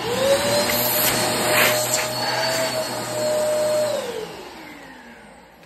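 Eureka Airspeed One vacuum cleaner running a suction test through its tools setting, a steady whining motor drone with a bright tonal hum that winds down at the end.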